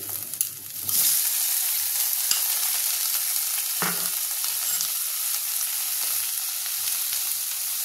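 Chopped green chilli, garlic and tomato going into hot oil for dal fry, producing a loud, continuous sizzle that swells after the first second, with a faint scrape of stirring partway through.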